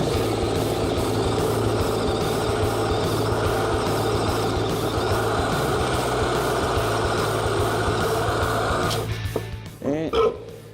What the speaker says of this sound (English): let's go ahead and start spinning this blade and make my cut.